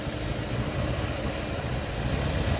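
The 3.0L engine of a 2002 Ford Escape runs close by with a steady rumbling drone and an uneven loping idle under load, loud and continuous with no voices.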